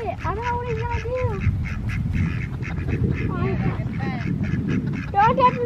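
Ducks quack repeatedly on a small farm near a fence, a steady run of nasal calls over a rumbling background, with people talking nearby.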